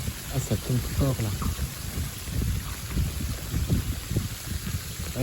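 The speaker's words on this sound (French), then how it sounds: "Ah, ça saute, c'est de la grêle." Hail pelting down hard in a surprise winter storm, a dense, continuous clatter and rumble of ice striking surfaces close by, steady throughout with some low rolling noise underneath.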